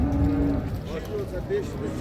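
A cow at a crowded livestock market in Şarkışla, Sivas, gives one short, low, close moo, with murmuring voices and market bustle around it.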